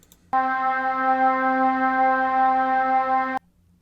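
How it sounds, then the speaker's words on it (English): A single sustained flute-like tone from a Mellotron sample, steady and breathy, holding for about three seconds before cutting off cleanly. "that is a Mellotron sample"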